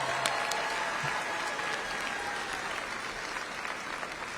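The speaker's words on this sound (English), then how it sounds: "Can we give that a round of applause?" An audience at a high school commencement claps steadily throughout, a dense, even wash of applause with a few sharper nearby claps and no speech.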